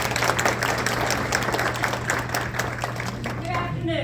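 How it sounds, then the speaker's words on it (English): An audience at a US citizenship ceremony claps warmly for a voter registration representative, a moderate stretch of overlapping applause that thins out toward the end. "let us give their representative a warm applause,"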